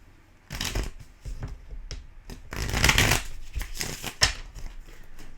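Tarot cards are shuffled close up in several quick riffling bursts, with soft papery slaps and pauses between them.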